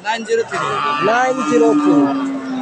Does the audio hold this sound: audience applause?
no